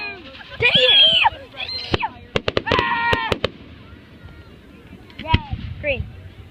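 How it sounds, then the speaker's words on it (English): Outdoor fireworks let out rising whistles, sharp cracks and booms in quick succession, loud and close, while people nearby shout and chatter over them. "Fireworks."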